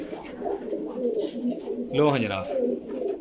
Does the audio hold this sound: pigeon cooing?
yes